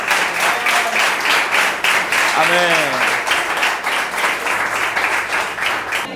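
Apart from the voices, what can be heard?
congregation applauding in church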